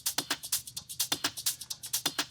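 A crisp hi-hat drum loop taken from a sample library, with bright, tight ticks falling in a fast, steady, even groove throughout and accents that repeat regularly.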